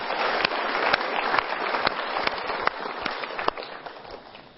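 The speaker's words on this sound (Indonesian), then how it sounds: "Kita berikan tepuk tangan untuk 2 orang ini." An audience at a motivational seminar applauds as two women come up onto the stage, steady clapping with a few louder individual claps, fairly close, tapering slightly toward the end.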